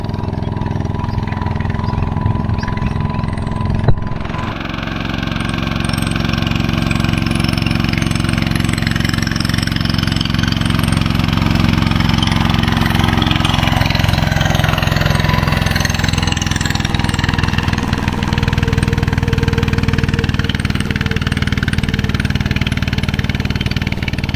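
A heavy tractor engine labors continuously while working clay soil in a field, its low rumble deepening and growing rougher as it strains under load; steady and loud throughout, no voices.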